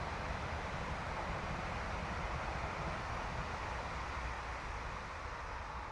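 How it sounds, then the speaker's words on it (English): A steady, broad rumbling roar of a passing train fills the whole stretch, loud and continuous, easing slightly toward the end with no voices. "Excuse the train."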